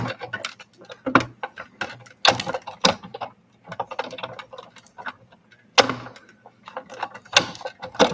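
A hand-cranked manual die cutting machine cuts Halloween journal pieces, giving irregular clicking, ratcheting and clunking bursts with short pauses between them, close and fairly quiet.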